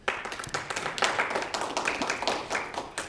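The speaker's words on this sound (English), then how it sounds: "I wish everybody would give themselves a hand, please" A live audience at a mayor's roundtable gives a short burst of scattered, close clapping that swells and then thins over a few seconds.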